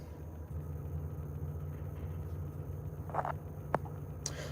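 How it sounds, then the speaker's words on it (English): A parked car is left idling, giving a low, steady engine rumble throughout, with a few brief clicks and knocks on top and no talking. "I got the car just straight up running."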